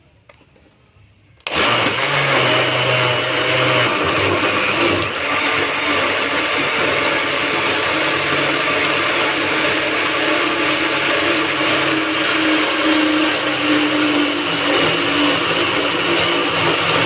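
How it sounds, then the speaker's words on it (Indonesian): An electric blender switches on after a short quiet moment and runs steadily at full speed, mixing fish bait into a smooth paste, with a loud, constant motor whine and churning to the end. "Setelah itu kita aduk dengan blender"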